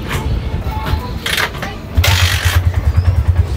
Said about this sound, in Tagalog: Papaandar rin natin ulit through kick.